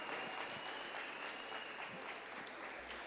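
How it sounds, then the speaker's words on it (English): Steady, dense applause from parents and a crowd fills a gym at a men's college volleyball senior night against Culver-Stockton, continuing without a break for about three seconds. "His parents applaud."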